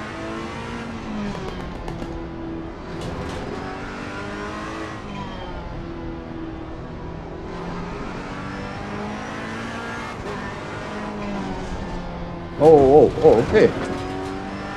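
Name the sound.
Ferrari race car engine braking into a corner, from the video game Assetto Corsa Competizione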